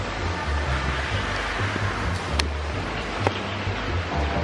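Wind blowing across the deck of a cruise ship at sea in the Caribbean, a steady rushing roar with low rumble and a couple of faint clicks, with no talking.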